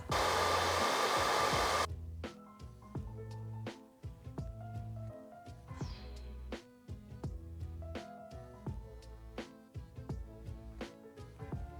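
A hair dryer heats the straps of a Raiden Shogun statue, roaring loudly and steadily for about two seconds before cutting off. Quieter clicks and taps from handling follow.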